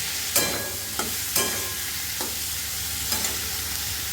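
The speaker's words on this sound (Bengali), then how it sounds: "এবারে টমেটোটাও অ্যাড করে ভেজে নেবো" Tomato and spices fry in a wok with a steady, dense sizzle, broken by several sharp scrapes and clanks of stirring at irregular intervals, close and alone without voices.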